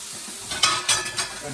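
Onions cooking in a pot are stirred, giving three quick scraping, sizzling strokes in a row, close and fairly loud over a low background.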